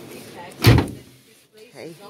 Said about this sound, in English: I'm just demonstrating the door.